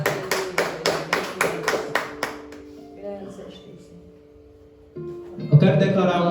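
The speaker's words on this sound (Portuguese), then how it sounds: "Se você entendeu, dê uma salva de palmas para Jesus." A church congregation at a Wednesday service claps hands in a brief run of sharp, regular claps, then fades as a voice speaks and music or singing comes in.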